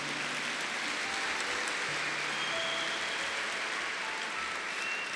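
Congregation applauding a priest's sermon in church: sustained, even applause from a large crowd, a dense rain-like wash of clapping at moderate distance with no talk.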